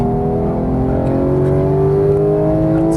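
Porsche 911 GT on full throttle on a racing track, its engine pulling hard in a loud, close, steady rising drone with layered harmonics and no talk.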